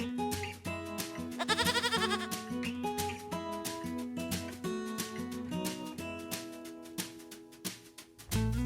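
A goat lets out a single wavering bleat early on, standing out above continuous upbeat music with a regular rhythmic pulse.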